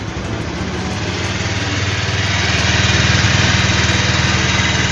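A motorcycle engine, freshly repaired at the final drive, starts up and runs alone at a steady, loud idle that rises slightly toward the end.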